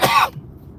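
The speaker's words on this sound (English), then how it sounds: "I've been coughing so much" A single short cough, sharp and close, lasting a fraction of a second before quiet.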